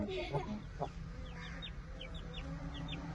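Aseel chickens cluck close by in a farmyard, with short, repeated clucks and a few sharper calls scattered over steady background noise.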